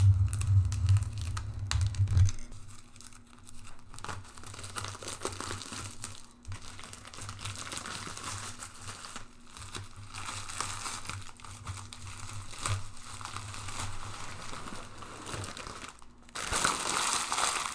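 Protective wrapping being peeled and crinkled off a wig block, a soft continuous rustle of crumpling plastic or paper up close, with a steady low hum underneath and no talking.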